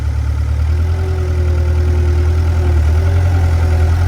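A skid steer loader's engine running steadily at close range, a loud continuous low rumble with a constant drone and no voices.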